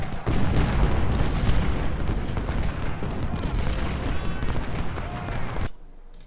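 Dense rolling booms of cannon artillery fire in the Ultimate General: Civil War battle at Saunders Farm, loud and continuous like a sustained barrage before cutting off abruptly near the end, with a voice faintly mixed in.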